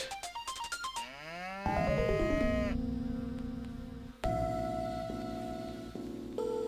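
A cow in a video game moos in loud, drawn-out tonal calls that shift in pitch, several overlapping in close succession with no one talking.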